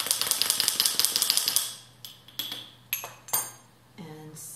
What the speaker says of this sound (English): adding some cardamom and giving it a quick little stir